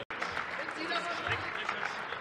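Applause in the German Bundestag during a plenary session, a short burst of clapping from the chamber with voices mixed in underneath.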